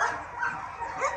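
A young white Samoyed puppy, about three months old, gives a few close, high yipping barks and whimpers in quick succession, loud and clear with no talk over them.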